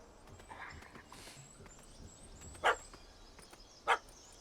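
In The Witcher 3, a puppy gives two sharp, isolated barks about a second apart, standing out clearly over a quiet ambient game background.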